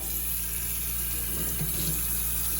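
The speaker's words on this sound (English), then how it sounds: "You gonna turn on the hot water, just like that." Hot water runs steadily from a kitchen faucet into a bowl, a constant close hiss of flowing water that continues unbroken throughout.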